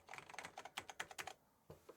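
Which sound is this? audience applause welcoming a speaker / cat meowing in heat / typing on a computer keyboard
typing on a computer keyboard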